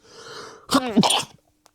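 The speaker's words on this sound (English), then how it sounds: "Wow, I just sneezed." One person sneezes, a quick sharp intake of breath followed by an explosive nasal burst, close and fairly loud, then fading to quiet.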